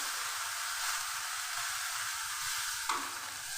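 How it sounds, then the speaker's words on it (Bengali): Cumin, coriander powder and turmeric fry with a steady sizzle in a pan for vegetarian oats khichdi, stirred with soft rhythmic scrapes and a single sharper knock near the end. "মশলাটা আমি একটু ভালো করে কষিয়ে নিচ্ছি।"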